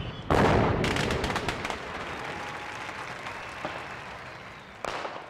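A loud burst of firework bangs with crackling, followed by scattered pops fading out, then another sharp crack near the end.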